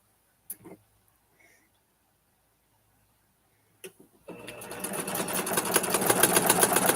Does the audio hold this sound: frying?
no